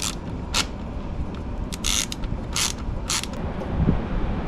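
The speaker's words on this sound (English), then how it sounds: "So we're going to tighten this up before tightening up the rest of the clamps." A wrench tightens an exhaust pipe clamp on a Ducati Monster 937 with a MIVV decat pipe, giving a series of short ratcheting clicks and creaks in bursts, close and fairly faint.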